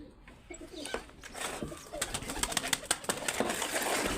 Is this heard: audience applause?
no